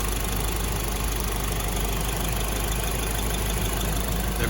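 A 2012–2015 Honda Civic Si K-series engine idles after a new starter install, giving a steady, unbroken mechanical hum with no pauses or revving.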